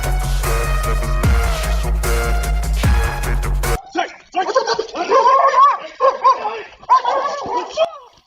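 Music plays briefly and cuts off, then a dog barks and yips excitedly at close range in irregular bursts.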